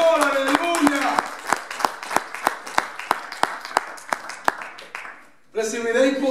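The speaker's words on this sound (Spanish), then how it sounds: "¡Dale un aplauso fuerte al Señor!" A church congregation at a Pentecostal service claps in a fast, loud, even rhythm, the sharp beats standing out clearly before the clapping stops and a voice takes over.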